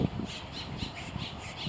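Small birds call outdoors under a canopy in a light breeze, a few short squawky chirps spaced irregularly and fairly faint, with a sharper burst near the end.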